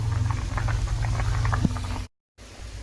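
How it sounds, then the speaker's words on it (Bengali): Curry with potatoes and water bubbles steadily in a pot on the stove, a loud, close, continuous simmering patter that cuts out briefly near the end. "তরকারিটা ফুটছে"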